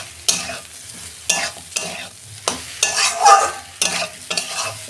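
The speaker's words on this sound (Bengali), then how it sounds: "কাঁকড়েলটা দিয়ে আমি 2 মিনিট একটু নাড়াচাড়া করে নেব" Pieces of teasel gourd are stirred with eggs and spices in a hot pan. A spatula scrapes in repeated loud strokes, about once a second, over a crackling sizzle.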